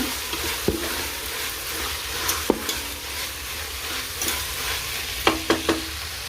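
A spoon stirs carrots, peas, beans and potato in a pan for veg biryani, giving soft scraping and a few sharp clinks against the pan over a low sizzle.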